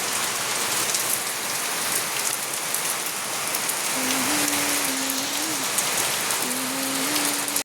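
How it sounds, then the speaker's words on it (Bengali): Afternoon rain falls steadily on surfaces, a dense even patter at close range throughout, with a faint tonal hum drifting in during the second half and no speech. "দুপুরবেলা বৃষ্টি চলে এসছে দেখো।"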